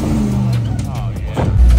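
A Jeep Wrangler TJ on big tires growls and revs while off-roading through woods, its engine a loud, close, rumbling drone that rises near the end, with people talking over it.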